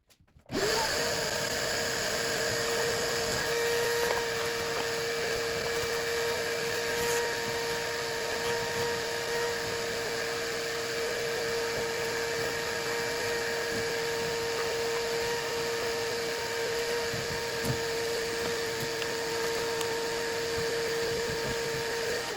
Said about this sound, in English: Get in here with a vacuum and vacuum all that junk.